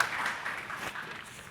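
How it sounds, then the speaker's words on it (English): Brief burst of audience applause for a keynote speaker at a mobile marketing talk, a dense wash of clapping that fades slightly over a second and a half. "Guys, round of applause from keynote speaker"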